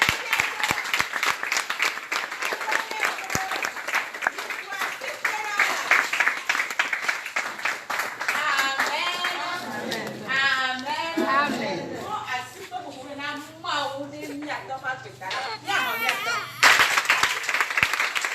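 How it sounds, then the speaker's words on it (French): A church congregation applauds, a dense, sustained clapping crowd at a service. Voices and speech then rise over the thinning claps in the second half. "acclamez pour eux."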